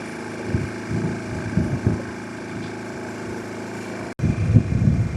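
Motor boat engine droning steadily along a narrow village canal in Kuttanad, a low rumble that briefly cuts out, then returns louder.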